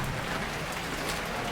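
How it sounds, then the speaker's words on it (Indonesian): Rain falls as an even, fairly faint broadband patter and hiss throughout a short stretch with no voices. "hujan lagi. Pasang lagi."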